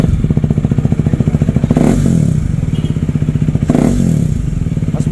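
Motorcycle with its exhaust silencer removed, loud and close, engine rumbling with a steady rapid firing pulse and brief revs around two and four seconds; a KTM Duke 390 or Yamaha Aerox V2 fitted with an aftermarket pipe.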